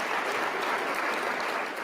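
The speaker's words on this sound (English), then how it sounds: "Everybody, big round of applause for Idris Elba." An audience at a forum event claps for Idris Elba in a steady, dense burst of applause throughout, fairly close and even.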